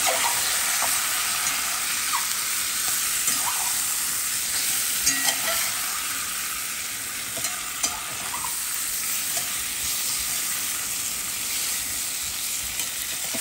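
Spiced koi fish masala in a pan gives off a steady, dense fry and sizzle, with scraping stirs from a spoon now and then, close by and unbroken by voices.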